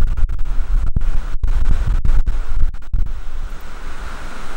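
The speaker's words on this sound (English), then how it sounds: "It is windy." Strong wind buffets the microphone in gusty, roaring bursts with deep rumbling thumps, no voices present, outdoors beside a 2015 GMC Sierra 2500HD diesel pickup.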